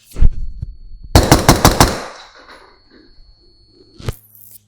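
Geisley 11.5 inch rifle firing outdoors: a single loud shot, then a rapid burst of about five sharp reports, each with a ringing tail, and another shot near the end.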